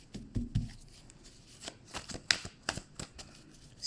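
Oracle cards are shuffled by hand, making a quick run of soft, papery riffles and flicks that come in irregular bursts, close and fairly quiet.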